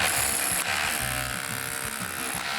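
A hammer drill runs steadily in a continuous, loud, buzzing mechanical drone during roof work on a labour-intensive home renovation, with pulsing low rattles and no voices.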